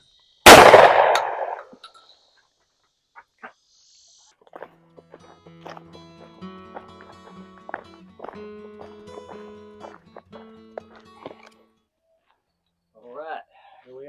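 A single loud shotgun blast rings out near the start at a sporting clays station with a rabbit target. Quieter clanks and insect-like chirps follow, and a voice speaks briefly at the end.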